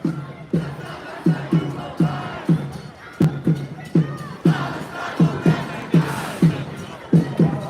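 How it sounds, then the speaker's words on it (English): A protest crowd on a college campus at Columbia College chants and shouts in loud rhythmic bursts, with repeated collective cries rising and falling over a constant murmur of voices. "And this is all what's left of the protest crowd."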